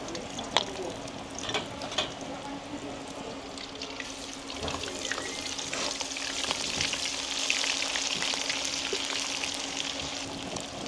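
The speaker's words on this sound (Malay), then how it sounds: "Ni kita goreng dulu deh." Tripe with garlic sizzles and crackles steadily in hot oil, a continuous hissing fry with occasional stirring clinks and pops.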